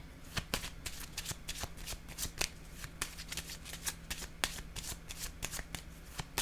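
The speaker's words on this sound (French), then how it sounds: "Je vais déposer une carte ici." Playing cards being shuffled, with a run of quick, crisp riffling snaps and taps that sound close and fairly quiet, ending as a card is laid down.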